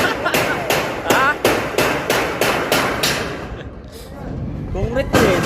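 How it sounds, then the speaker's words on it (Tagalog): A hammer strikes concrete in a steady, rapid run of sharp, loud, close blows, with a short lull before the pounding resumes and people talking over it. "Hammer!"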